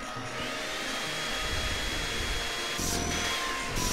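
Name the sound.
vacuum cleaner vacuuming pillows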